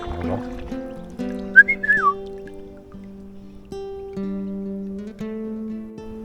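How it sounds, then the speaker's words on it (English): Golden oriole singing by a river while kayaking the Ebro, a short fluting whistled phrase heard a few times over a steady low drone. "You can hear the golden oriole."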